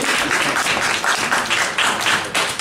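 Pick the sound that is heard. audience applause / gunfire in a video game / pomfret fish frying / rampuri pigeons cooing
audience applause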